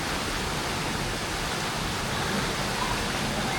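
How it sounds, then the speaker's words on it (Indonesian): Waimarang waterfall in Sumba Timur pours in an unbroken, dense roar of rushing water, loud and even throughout with no voices. "Air terjun Waimarang, Sumba Timur"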